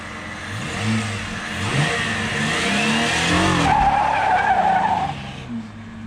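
Car tires spin and squeal on pavement during a burnout attempt with the rear wheels chocked, a loud continuous screech over a revving engine, close by and without speech.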